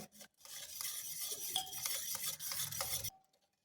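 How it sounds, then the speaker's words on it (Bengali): Spoon stirring powdered sugar into an eggless chocolate cake batter of melted butter, a steady scraping swirl for about three seconds, close and continuous, ending abruptly with no voices. "চিনি গুঁড়োটা খুব ভালো করে গুলে নিতে হবে।"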